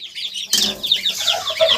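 A bantam hen clucking close by on a farmyard, a run of short, quick, high clucks and squawks following a sudden onset, with no voices.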